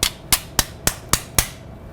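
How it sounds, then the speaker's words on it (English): A surgical suture anchor is tapped down during a Broström repair, giving six crisp, evenly spaced metallic taps that sound close and clear with nothing else audible. "The anchor is then tapped down."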